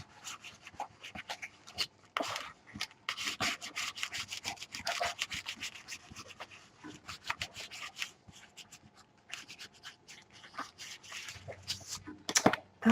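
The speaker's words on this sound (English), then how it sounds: "burnish this in" Rubbing and burnishing of a paper piece onto a page of an 8x7 princess-themed mini album, a steady series of close, dry scraping strokes with short pauses, fairly quiet and without talk.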